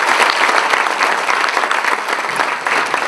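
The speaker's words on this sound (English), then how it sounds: "How about a round of applause for our National Guard?" Audience at a teachers' federation convention applauds for National Guard members, loud sustained clapping with a thick wash of hands throughout and no talking.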